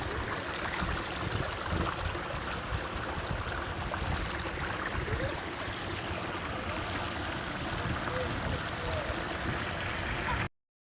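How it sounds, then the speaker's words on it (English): Running water of a stream near waterfalls on the Cleveland Way at Hayburn Wyke, a steady broadband rushing wash that holds constant and fairly close, with no voices, until it cuts off abruptly near the end. "You just can't beat the sound of running water."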